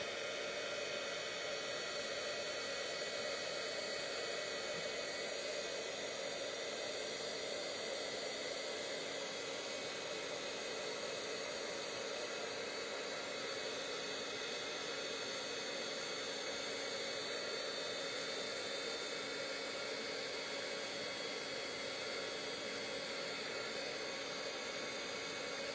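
A heat tool for card making runs continuously, a steady close, even blowing roar with no breaks, like a small hair dryer left on.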